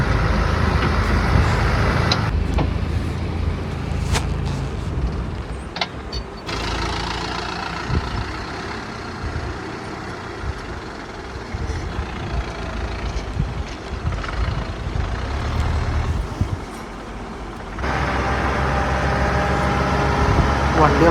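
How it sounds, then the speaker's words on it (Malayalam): Trucks running nonstop while hauling soil to a beach site in Varkala, with a steady, loud engine rumble and idling throughout and occasional clanks, under continuous nearby talking. "1 മിനിറ്റ് പോലും റെസ്റ്റ് ഇല്ലാതെ ആ വണ്ടി വരുന്നത്"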